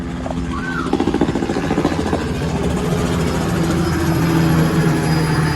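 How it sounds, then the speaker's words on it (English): A steady low mechanical drone of a helicopter overhead in Siargao, Philippines, after Super Typhoon Odette, with a rhythmic rotor chop rising then settling into a continuous engine roar. "We've seen a few helicopters flying overhead."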